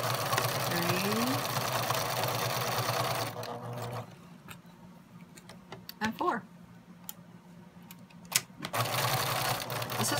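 A sewing machine stitches quilt pieces together in a fast, continuous run, stops for a few seconds of quiet with scattered clicks and handling noise, then starts running again, with a person speaking nearby.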